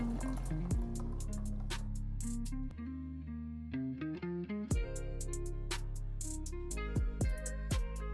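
Laban, a Lebanese yogurt drink, poured into a glass with mint and ice: a steady liquid fill with gurgles and soft drips, interrupted by a brief pause, then more pouring with clinking ice.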